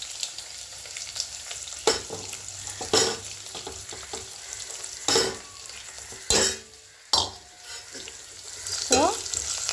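Chopped onion for an eggplant curry sizzles steadily in a hot pan, with a continuous frying hiss broken by several louder bursts as the pieces are stirred and scraped.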